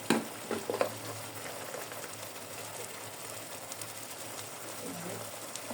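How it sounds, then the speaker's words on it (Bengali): Spices with a half spoon of cumin powder frying in a pan for a prawn malai curry, giving a steady close crackling sizzle with a few scrapes of a spatula near the start. "এখানে আমি এই মশলাগুলোকে ভালো করে কষিয়ে নিব"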